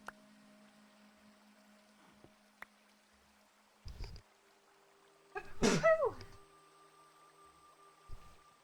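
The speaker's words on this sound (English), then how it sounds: "Gotta take off my headset to sneeze real quick." A person sneezes once, loud and close, with a sharp burst partway through, set against quiet game background ambience with a few faint clicks before and after.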